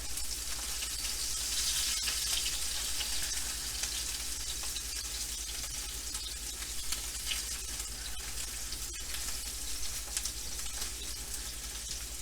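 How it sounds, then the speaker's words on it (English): A 2.5-pound tomahawk ribeye steak sears in an oiled pan, giving a steady, loud, close sizzle and crackle that runs unbroken throughout, with no voices. "So sear and then slowly bring the ribeye steak up to temperature."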